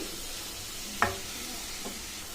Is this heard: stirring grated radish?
yes